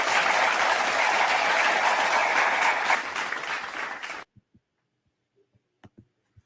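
Ballpark crowd applause during a Kansas City Royals versus New York Yankees game, a steady loud wash of clapping for about four seconds that cuts off abruptly, leaving near silence with a few faint isolated knocks.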